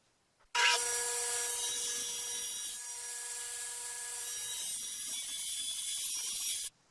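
Clamps ratcheting tight on a wooden bathroom vanity cabinet, a continuous grinding, rasping mechanical run lasting about six seconds at close range, slightly easing partway through.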